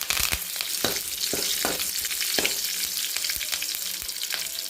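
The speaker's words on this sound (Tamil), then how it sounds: "கொஞ்சோண்டு எண்ணெய் ஊற்றிக்கலாம் கடுகு போட்டுக்கலாம் ரெண்டு கடலப்பருப்பு ரெண்டு போட்டுக்கலாம்" Mustard seeds, chana dal and curry leaves frying in hot oil in a kadai, a loud steady sizzle broken by sharp crackles and pops from the seeds, close up with no voices.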